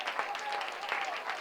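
A congregation claps hands during Sunday church worship at LGFG Ministry in Shimoga: dense, continuous applause-like clapping from many people fills the room, with a voice heard over it.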